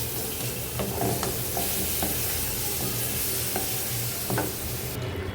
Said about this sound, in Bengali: তো দেখেন এখানে কিন্তু আমার পেঁয়াজটা ভাজা হয়ে গেছে।